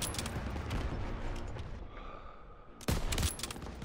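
Gunfire in the Call of Duty WW2 battlefield rattles in a dense, fairly faint stream, pauses briefly, then returns in a sharper, nearer burst.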